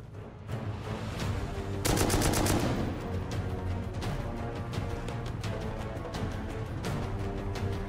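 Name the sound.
turret firing in video game Rust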